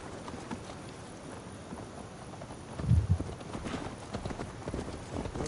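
Horse hooves clip-clop at a steady riding pace in Assassin's Creed Valhalla, with a heavier thudding burst midway over a constant low rumble of outdoor ambience.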